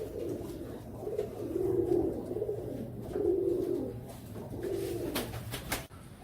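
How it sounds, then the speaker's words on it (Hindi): Royal Teddy pigeons, a fancy breed, give repeated soft, throaty coos in a steady rhythmic series, close and clear over low background hum, with no talking. "ये सारे के सारे कस वाले कबूतर हैं माशाल्लाह से"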